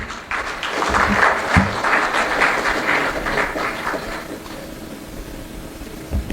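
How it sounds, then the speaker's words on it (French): An audience at a ceremony marking fifty years of ECOWAS applauds to welcome a speaker, a full close burst of clapping that swells, then thins and tapers off. "sous vos applaudissements"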